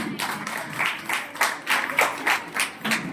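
An audience claps in tribute to medical staff for their service at a retirement gathering, the applause rising and falling in distinct rhythmic bursts, moderately loud and close, with no talking over it.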